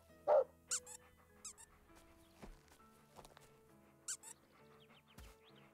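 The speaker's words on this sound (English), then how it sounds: "they're always barking at this plant" A dog barks in the video game Animal Shelter Simulator, giving a few short, scattered yips and squeaky barks over a faint, quiet background, with no voices.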